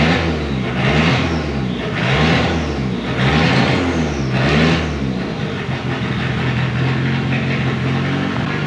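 Conquest car engine being revved hard on its first drive of the year, loud and close, rising and falling in four strong surges before settling into a rough, steady idle.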